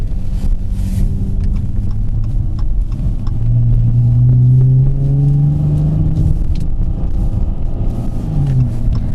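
A Dodge Charger engine accelerates hard from inside the cabin, its tone rising steadily over a constant low rumble, with no talking.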